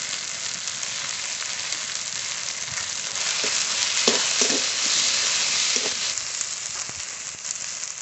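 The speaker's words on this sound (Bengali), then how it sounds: "জিরে ধনে শুকনো লঙ্কা আদা বাটা একসঙ্গে দিয়ে দেবো।" Cumin, coriander, dried chili and ginger paste frying in a pan give a steady, loud sizzle, with a few soft stirring scrapes partway through.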